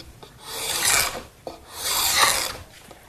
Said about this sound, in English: scrape off any of the excess glue that's squeezed out between the boards.